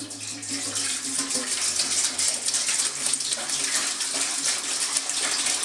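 Bottled Crystal Geyser water pours steadily into a brewing pot, a continuous close splashing gush with no talk over it.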